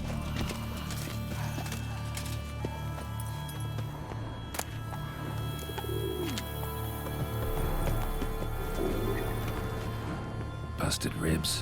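Roach, Geralt's horse in The Witcher 3: Wild Hunt's Blood and Wine, gallops with steady clip-clopping hoofbeats under a constant droning game ambience, with a brief snort or whinny partway through.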